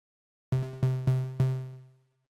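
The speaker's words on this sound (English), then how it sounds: "So it kind of has this interesting shuffled effect you can hear between the two different delay units." A single plucked tone repeated four times in quick, slightly uneven succession through two stacked stereo delays, a shuffled echo effect, each echo decaying into a lingering tail.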